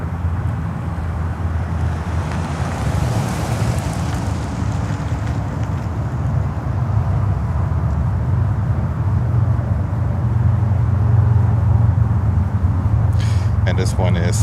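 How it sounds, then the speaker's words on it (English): A United Boeing 767-300 from London Heathrow arrives at Newark, a broad, steady jet roar that swells slightly and deepens toward the end, heard from outdoors at a distance. "767-300 coming in from London Heathrow. That's another United."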